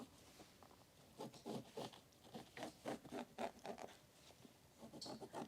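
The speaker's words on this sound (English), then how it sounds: "we start with drawing on our fabric with the pencil." A pencil drawing on fabric, making soft, close scratchy strokes in quick uneven bursts, with short pauses between runs of marks.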